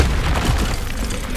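Confringo spell in Hogwarts Legacy detonates as a loud, close fiery boom, a single heavy blast with rumbling low end that fills the whole moment.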